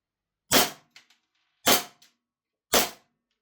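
A small C2 airsoft gas pistol fires three sharp, snappy shots through a chronograph, evenly spaced about a second apart, each a loud crack followed by a faint brief echo, with silence between.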